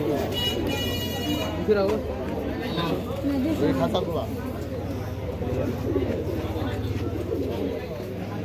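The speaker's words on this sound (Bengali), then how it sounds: "এই যে এত কবুতর দেখতেছেন এগুলো হইতেছে কালো চোখের কবুতর" Pigeons coo steadily in the crowded background of a busy pigeon market, mixed with a constant crowd murmur and nearby talking, with a faint horn or buzzer now and then.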